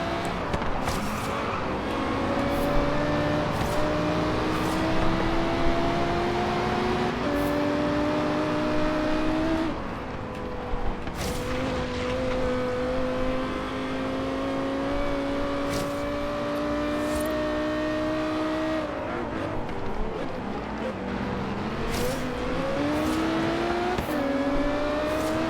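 A Lexus LFA races against other cars in Forza Horizon 3. Several engines drone and whine steadily, with pitch climbing and dropping through gear changes, and brief clicks and shifts punctuate the continuous, fairly loud roar.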